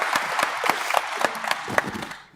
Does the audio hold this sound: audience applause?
yes